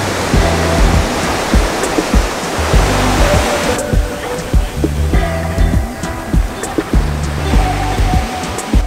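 Sea waves wash onto the beach at Isla de la Piedra, Mazatlán, a loud, continuous roar of surf with repeated low thumps and rumbles as the water breaks and rolls close by.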